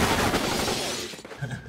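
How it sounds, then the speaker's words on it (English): Rapid gunfire from a movie scene, a dense burst of shots and clatter filling the first second before fading into quieter rumble. "All the shooting."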